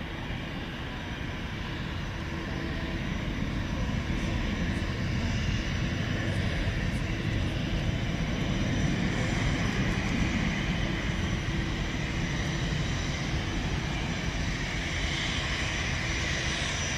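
Airliner departing Dublin Airport, a steady broadband engine rumble with a faint whine, moderately distant and fairly constant, with no talk over it.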